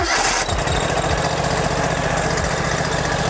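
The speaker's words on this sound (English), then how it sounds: "Once that goes off, you can go ahead and fire it up." A lawn mower engine turns over and catches, then runs at a loud, steady, rumbling idle close by, with a rapid regular chug.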